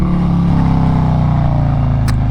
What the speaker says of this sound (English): gotta get a downshift in here.